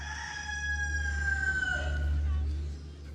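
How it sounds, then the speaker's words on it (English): A rooster crows once, a clear drawn-out cock-a-doodle-doo at moderate distance over a low steady hum, fading at the end. "a rooster crowed"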